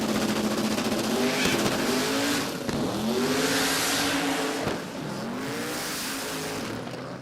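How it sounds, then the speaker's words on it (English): A race car launches with wheel spin, the engine revving hard, dropping off and surging again in repeated on-off pedal bursts before pulling away, loud and close with tire screech mixed in. "Bit of wheel spin, bit of off the pedal, on the pedal, off the pedal, on the pedal, and then away."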